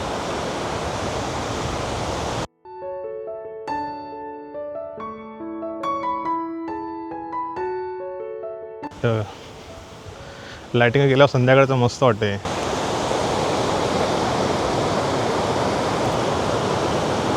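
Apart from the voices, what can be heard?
rough sea waves crashing on the beach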